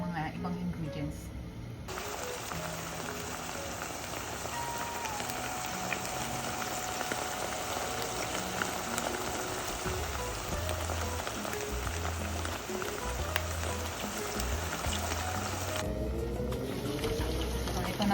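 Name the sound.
shrimp paste (alamang) cooking in a pan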